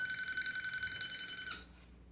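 A short-circuit component identifier tester on an electronic circuit board being repaired gives a bright, steady electronic beep that pulses very rapidly, holding for about a second and a half before cutting off.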